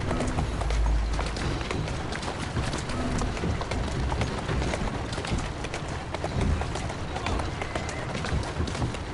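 Horse hooves in Assassin's Creed Syndicate clip-clop at a quick pace over a constant rumbling wash of noise, with a few low thumps along the way.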